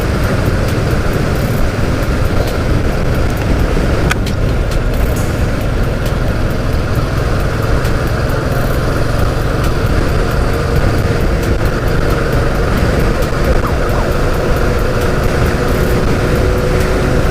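Royal Enfield motorcycle riding on a grooved grid-patterned road between Ayodhya and Lucknow, giving a continuous loud engine drone mixed with a steady rumbling tyre hum and wind noise throughout, with no talk.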